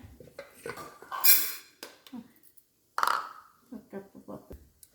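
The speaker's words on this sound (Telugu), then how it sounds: "ఇదిగోండి, పప్పు కడుగుతున్నా." Split lentils being washed in a metal vessel, with clinking and scraping from the pot and a couple of sharp clanks, heard close up under someone talking.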